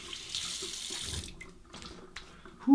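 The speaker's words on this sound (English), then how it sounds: "A hot then cold water rinse." Tap water runs steadily into a sink for a hot-then-cold face rinse after a wet shave with a Razorine Flatboy razor, a close, even hiss that thins out and breaks into splashes and drips toward the end.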